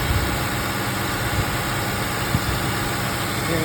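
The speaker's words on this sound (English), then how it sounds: "now that we have our engine running, 2000 RPM" A car engine idles steadily at about 2000 RPM during a Seafoam treatment, giving a continuous close mechanical hum with faint vibration and no talking.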